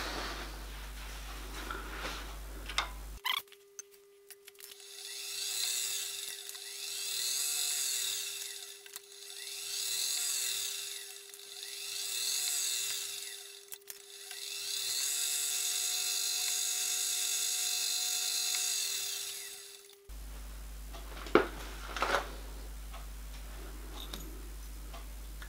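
Drilling machine cutting a metal cylinder in a home machine shop, a steady whirring drone with rhythmic pulses, running for most of the stretch between quieter moments with clicks at the start and end.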